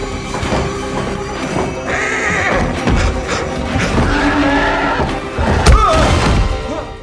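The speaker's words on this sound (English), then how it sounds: "we've seen and heard about this wild horse called the Man-Eater" A wild horse neighs loudly and shrilly, with heavy hoof thuds and stamping close by, while short grunts and commotion break in amid the struggle.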